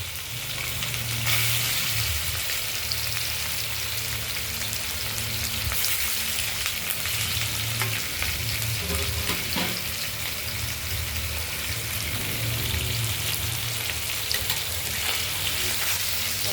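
Paneer pieces fry in a pan with a continuous bright sizzle and hiss, steady and fairly close for a long stretch, with occasional small pops and clatters.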